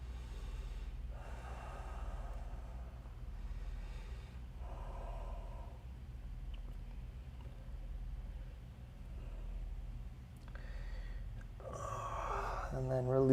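Deep, slow breathing during a yoga stretch session, with several audible inhales and exhales spaced across the quiet stretch, close and soft.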